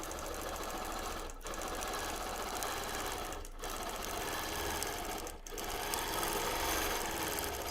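A sewing machine stitching a quilt in free motion quilting runs at a steady fast whir with a dense mechanical needle chatter, close and loud, broken by three brief dips in speed, without any talking.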